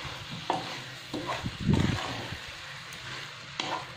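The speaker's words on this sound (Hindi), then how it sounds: "और इसमें हम डालेंगे हल्दी पाउडर, और मिर्ची पाउडर, और इसको हम अच्छे से मिक्स करेंगे" French beans tossed with turmeric and chili powder are stirred in a pan: close scraping and clattering strokes of a spoon over a soft background sizzle, with a louder rustling push partway through.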